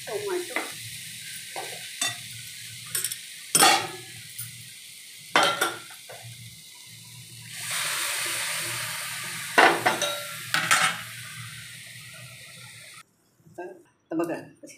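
Tomatoes for misal cook in a pan with an oily sizzle and repeated scraping stirs and clanks of a spoon on the pan, plus a longer hiss of frying near the middle and an occasional voice.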